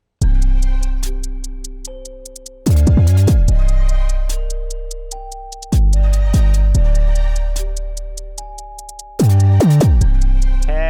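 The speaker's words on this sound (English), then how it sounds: "so I've altered the second half of the bells here" A bright synth bell melody from a Sub Lab beat rings out in sustained, decaying phrases over deep bass hits, with the second half altered, repeating in roughly three-second cycles, loud and clean.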